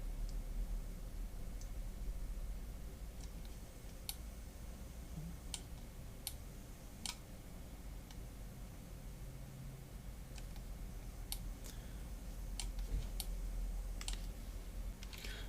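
Mouse clicks while editing props in 3D software, sparse sharp clicks at irregular intervals over a faint steady hiss, close and quiet.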